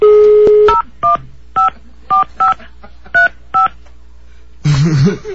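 Telephone keypad dialing tones in a prank call: a steady tone, then a run of about eight distinct beeps in an uneven rhythm, loud and close, followed by brief voice-like sound at the end.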